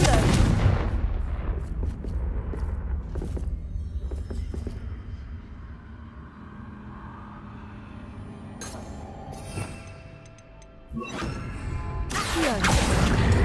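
Confringo fire spell blasts in the video game Hogwarts Legacy: several loud booming explosions with crackling bursts, spread across the span over a busy rumbling background, the last blasts arriving close and heavy near the end.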